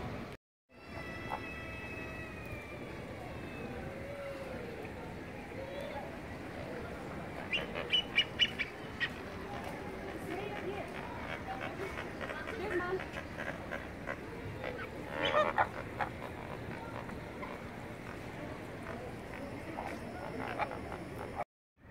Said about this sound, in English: Also, ducks!